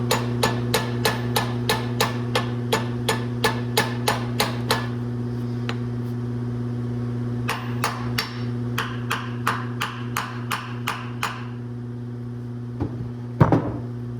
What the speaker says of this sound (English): We're using a hammer and a little flathead screwdriver to take apart the carburetor.